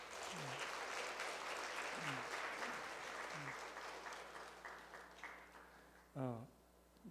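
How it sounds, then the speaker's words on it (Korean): Applause from a church congregation offering a blessing at a Sunday service wedding prayer, fairly faint and distant, steady through most of the stretch with a few brief voices, fading near the end. "우리 축복의 박수 한번 보내도록 하죠."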